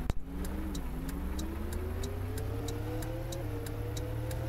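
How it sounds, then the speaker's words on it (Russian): A Soviet bus engine in the video game Bus World: a steady drone that slowly rises in pitch as it accelerates, with faint regular ticking above it and no voices. "А еще звук мотора, мне кажется, какой-то не совсем такой."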